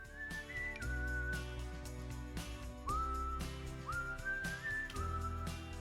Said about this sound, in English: Whistling is pretty fucking annoying.